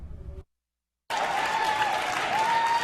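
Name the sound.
crowd applauding at Democrats election night headquarters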